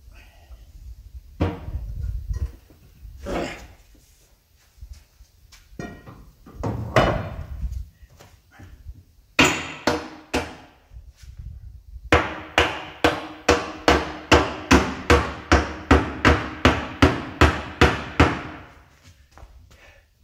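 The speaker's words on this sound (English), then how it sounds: "I really need a sledgehammer." A sledgehammer pounds on a metal deer feeder during a rebuild: scattered heavy blows at first, then a fast, even run of loud ringing strikes, close by, with no talk.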